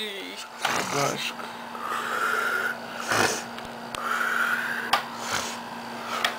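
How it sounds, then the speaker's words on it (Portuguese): A sleeping man snores in a series of rough, rasping breaths spaced a couple of seconds apart, fairly close, with some faint voice-like murmur between the snores. "dormindo e roncando"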